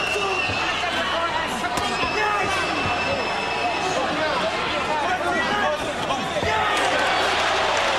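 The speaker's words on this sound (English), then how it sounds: "The crowd cheers mightily, and Naz smiles as Ingle lands a right hand" A packed arena crowd cheers through a Prince Naseem Hamed versus Paul Ingle boxing bout, a dense continuous roar of voices with thumps and shouts, while a commentator talks over it.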